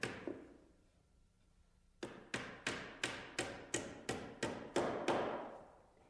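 A hammer taps a small nail into wood while building a staircase, one early strike then a quick run of about ten sharp, evenly spaced blows, close and clear.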